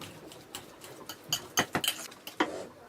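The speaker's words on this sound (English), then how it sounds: "Now I'm going to take my banana in a bowl and I'm going to mash it." A banana mashed in a bowl with a utensil, a run of soft irregular taps and scrapes against the bowl, close and quiet.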